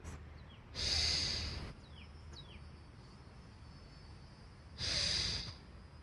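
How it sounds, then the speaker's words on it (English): Two forceful breaths pushed out through the nose, each a loud rushing exhale lasting under a second, separated by a quiet pause. "force the breath out of your nose by drawing your belly up away from the earth"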